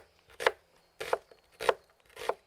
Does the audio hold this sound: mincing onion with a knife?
yes